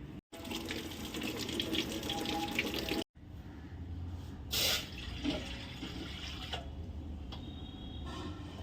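Tap water runs steadily into a sink while a leaf is rinsed under it, a continuous splashing stream broken by a couple of brief cut-offs and occasional louder splashes.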